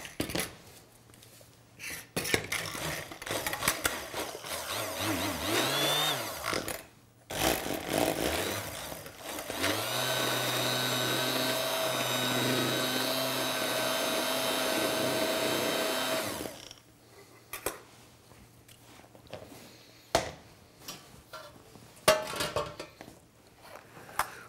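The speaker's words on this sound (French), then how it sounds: "on va venir mixer ce jus" A kitchen blender whirs while mixing prawn jus into a foam, the motor running steadily for about seven seconds in the middle, framed by short bursts of whirring, clatter of utensils and quiet kitchen handling before and after.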